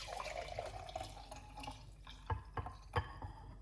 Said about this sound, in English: I'm going to pour it out